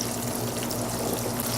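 Tap water runs in a steady, dense rush from a faucet as hands are washed, continuous and fairly close, with a low hum underneath and no talking.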